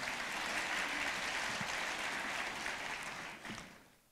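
An audience at a value investing talk applauds a guest seated at a table, a steady wash of clapping that is fairly soft and distant and fades out near the end.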